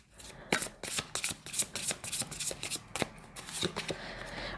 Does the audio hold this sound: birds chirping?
no